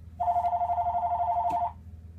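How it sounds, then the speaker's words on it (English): A mobile phone rings indoors during a watercolour painting session, one steady electronic ringtone lasting about a second and a half, fairly close and clear over a low background hum. "My phone's ringing, I'm sorry."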